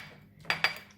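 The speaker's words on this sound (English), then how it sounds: "just continue to beat the egg and the meat so it's well combined." Egg and minced pork beaten together in a bowl for a pork omelet, heard as two quick, close utensil clinks against the bowl over a quiet kitchen background.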